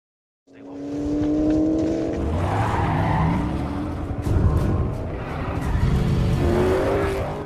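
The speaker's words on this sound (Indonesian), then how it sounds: "ada mobil yang mengikuti mereka dari belakang" Tires squeal and skid loudly as one car chases another in a film, engines roaring and revving continuously for several seconds, with a second squeal rising near the end.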